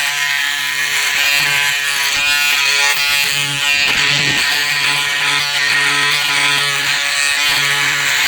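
A Braun Series 7 360° Flex electric shaver runs close and loud, a steady high buzzing hum with slight pitch wobbles as it glides over the face, with no talk.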